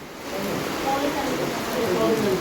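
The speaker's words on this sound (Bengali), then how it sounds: "সেই জোর বৃষ্টি হচ্ছে একদম" Heavy rain pours steadily as a broad, dense wash of noise, close and loud, with voices talking faintly beneath it.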